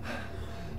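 A character in the horror game Outlast 2 breathes heavily, one ragged gasping inhale-exhale that is loud and close, with no speech over it.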